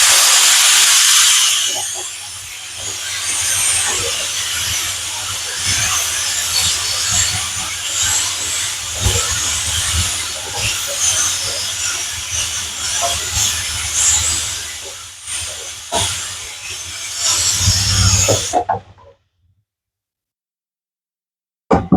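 Chopped onions sizzling gently in oil on low heat for a chicken biryani, a steady broadband hiss with small crackles running continuously at close range, then cutting off abruptly near the end.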